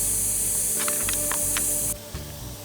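Compressed air hisses loudly and steadily, blowing trash and debris off the fuel pump area of a Chevy/GMC truck, with a few brief clicks and knocks before the hiss cuts off abruptly near the end.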